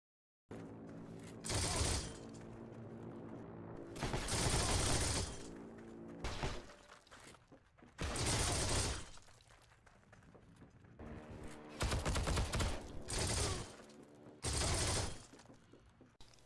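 In Heroes & Generals, MG34 or MG42 machine gun fire comes in five or six loud sustained bursts, separated by quieter gaps with faint background game sounds.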